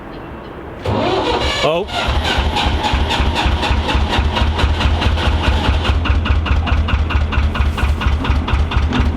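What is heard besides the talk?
narrowboat engine starting and idling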